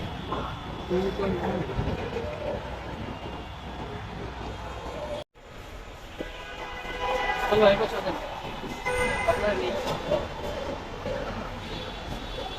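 A metro train pulls into Shahbag metro station in Dhaka, a loud rail rumble and whine building on the platform, with people talking over it throughout.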